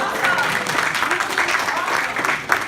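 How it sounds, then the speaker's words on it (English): Applause from a Toastmasters District 38 leadership audience for a woman introduced as an innovator, a continuous rattle of many hands filling the room, with a voice partly audible under the clapping. "Give her a round of applause"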